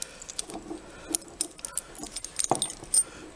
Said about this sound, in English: Let's get the keys off.